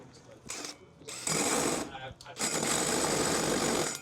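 A power drill with a hole saw bites into material in bursts, a loud grinding whir starting and stopping before a sustained cut, close up with a voice talking over part of it.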